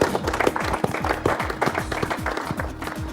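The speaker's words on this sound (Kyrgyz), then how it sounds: "Кол чабуулар." Applause from a studio audience at a televised team game show, with clapping that is steady and fairly close, and voices and a faint tone mixed in beneath it.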